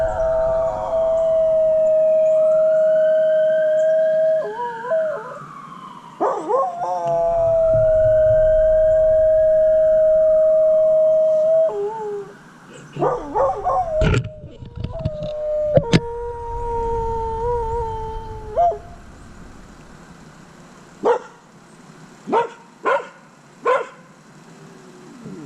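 A dog howls in long, rising and falling wails, close and loud, with pauses between phrases and a few sharp yips and barks near the end, no talking.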